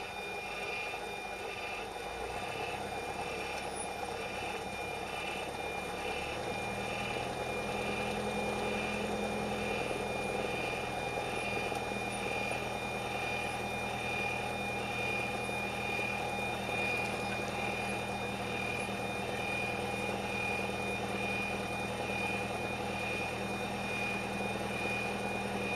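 A small training airplane's piston engine and propeller idle steadily up close as it taxis to a stop, a continuous humming drone whose low pitch drops a few seconds in and then holds even throughout.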